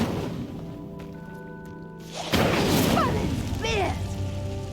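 Incendio fire spell cast at a pyre in Hogwarts Legacy, a sudden whooshing burst of flame that flares up and keeps roaring and crackling over a low game hum, with faint rising magical tones.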